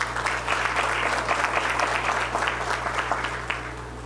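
Applause rises from the audience at a solemn session of a municipal chamber for Black Consciousness Day, a steady, moderately loud crowd of clapping hands over a low electrical hum.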